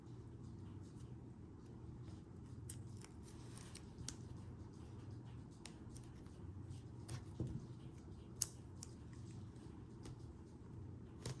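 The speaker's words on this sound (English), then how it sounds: "You're just going to continue cutting and adhering all of your score tape." Scissors snip through score tape in small, scattered, faint cuts over a low, steady background hum while making purse party favors.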